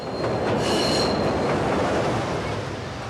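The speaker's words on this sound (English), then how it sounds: "Take the L train north of the Chicago Loop" A Chicago L train rumbles past on elevated tracks north of the Loop, loud and close, with metallic wheel squeal and rattling clatter over a continuous roar.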